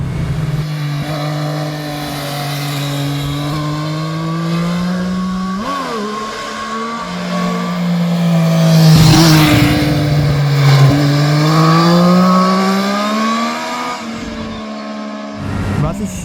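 A Triumph Street Triple 765 RS motorcycle rides through curves, its engine note rising and falling steadily with throttle changes as it leans through bends, close and loud with brief dips between corners.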